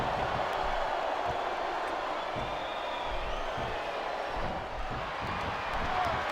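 An arena crowd in the SmackDown vs Raw 2007 wrestling game, a dense, steady roar of cheering and crowd noise that fills the space at a constant level with no single voice standing out.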